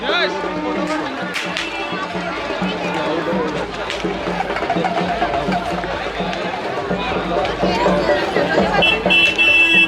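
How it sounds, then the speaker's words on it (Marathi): Dense crowd hubbub at a Maharashtra village buffalo festival fair (mhasachi yatra), steady babble of many voices close around, with someone talking over it and clattering activity throughout. "मजबूत गर्दी आहे बघू शकता तुम्ही"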